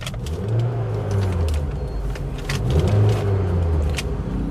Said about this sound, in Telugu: చూడండి, యాక్సిలరేటర్ ఒకసారి ఇస్తున్నా చూడండి